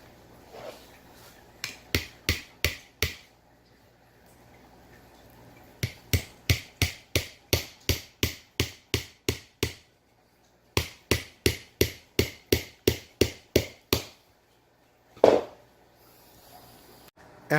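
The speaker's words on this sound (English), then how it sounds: "we will hammer the nail down into the other piece of wood." A hammer strikes a nail in quick, evenly spaced taps, several runs of about ten blows each separated by short pauses, sharp and close.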